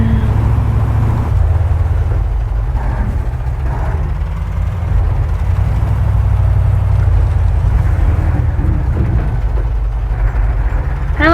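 An orange Kamaz truck in the Spintires off-road driving game on a river map gives a loud, continuous low engine drone that stays steady and close throughout, with no talking.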